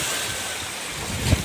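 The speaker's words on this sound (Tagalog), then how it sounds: "malakas yung alon dito guys" Rough, broadband rush of surf with wind noise throughout, building to a louder crash of a wave near the end.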